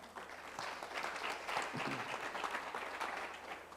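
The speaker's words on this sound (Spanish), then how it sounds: "¿Le puede dar una fuerte ofrenda de palmas al Señor?" A church congregation claps in praise during a Spanish-language service, a dense, continuous burst of applause from many people that swells slightly midway and holds steady throughout, with no voices on top.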